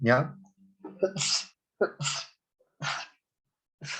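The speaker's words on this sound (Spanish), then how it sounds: "Oh, ataque de estornudo, lo siento." A person sneezes in a short burst of sneezes during a lecture on acid-base physiology, with speech between the sneezes.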